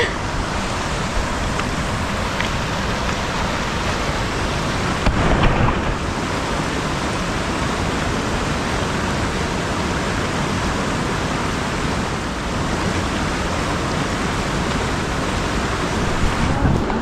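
Flowing stream water near a backcountry campsite on the Benton MacKaye Trail between Big Creek and Smokemont gives a loud, steady, close rushing hiss with no breaks.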